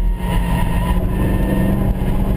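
Race car engine on the Harris Hill road course, loud and steady close-up drone with a rising rev as the driver gets back on the throttle out of a tight turn.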